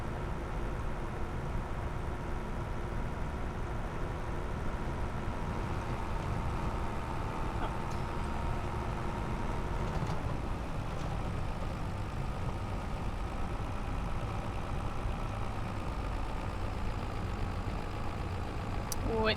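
A tractor engine in the Farm Sim video game labours up hills, a steady low droning rumble that runs continuously at a moderate level with no pauses.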